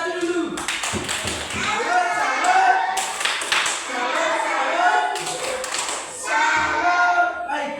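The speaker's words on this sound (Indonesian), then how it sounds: "Tepuk satu untuk kelompok 1 dulu." Classroom of students clapping together for a group that answered correctly in a science lesson on the five human senses, with bursts of rhythmic claps mixed with children's voices and chatter throughout.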